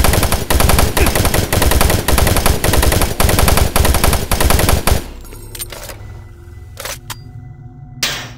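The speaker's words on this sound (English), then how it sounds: "The machine gun is basically the sniper this game." Sustained automatic machine gun fire in Doom 3 co-op play, loud rapid bursts for about five seconds, then the shooting stops and only quieter game ambience and a few faint clanks remain.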